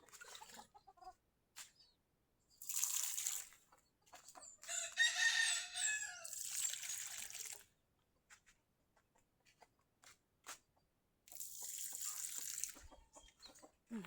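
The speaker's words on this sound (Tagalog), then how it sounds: "Nagpapakain ako sa aking mga alagang pigi at mga alagang chicken." Pet chickens on a small farm make sporadic clucks and short calls, broken by several loud rooster crows that come in separate bursts with quiet gaps between them, fairly near and with no talking.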